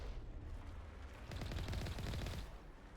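Video game gunfire: a rapid burst of shots rattling out over a steady noisy background, moderately loud, with no talk.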